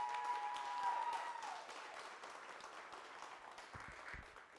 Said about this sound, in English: Let's give a giant round of applause to Jeremy Gomez.